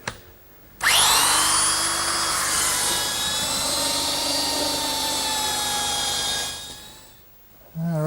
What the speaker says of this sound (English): I can't use the joiner, but I can use my belt sander.